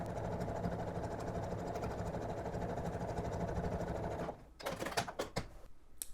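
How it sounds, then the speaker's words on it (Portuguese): A sewing machine stitches a quilt block, its motor running in a steady, close whir for about four seconds, then stopping and giving way to a few short clicks and handling noises. "Aí eu abaixo o pé e costuro."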